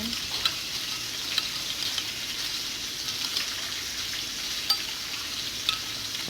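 Pork steak sizzles steadily in a pan with salt, pepper, soy sauce and sugar, a dense continuous frying hiss broken by occasional light taps and scrapes as the meat is stirred.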